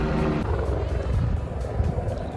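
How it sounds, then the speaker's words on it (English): A helicopter's rotor chops steadily and loudly throughout, close by, at a car dealership, with a low engine rumble underneath. "We have a helicopter."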